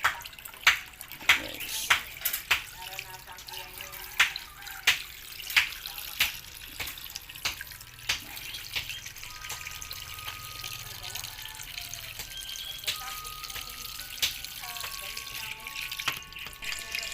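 Chopped sea snails get washed in water, with repeated splashes and sloshing knocks at an irregular rhythm, close up, alongside steady running water and some clinking.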